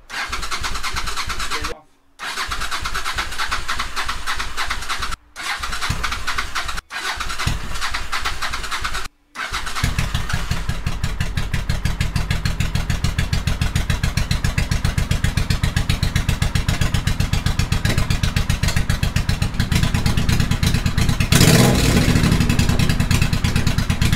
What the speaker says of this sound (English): It's been a while since this bike has run, but I'm gonna give it the benefit of the doubt and say she just needs to be broken in, but she's running.